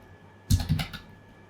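Brief burst of keystrokes as code is typed on a computer keyboard, a quick cluster of close, crisp clicks lasting about half a second over a quiet background.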